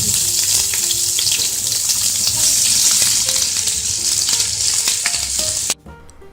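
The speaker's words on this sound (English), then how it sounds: "Just wait for them to sizzle down and then add the onion," Curry leaves frying in hot oil give a loud, dense sizzle with crackling pops, continuous and close for several seconds before cutting off abruptly near the end.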